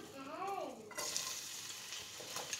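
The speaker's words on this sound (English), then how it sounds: "I'm just going to let these onions fry in for just about" Onions frying in a pot for spinach stew, a soft steady sizzle with some stirring scrapes, near and quiet, after a brief spoken word.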